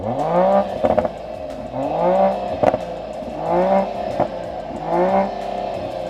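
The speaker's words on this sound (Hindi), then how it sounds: "Hear the exhaust note, that sweet exhaust note." A 2024 Mercedes GLE 53 in Sport Plus mode revs repeatedly, its exhaust note rising and falling in four or five loud, close bursts with sharp pops and crackles between them, with no talking.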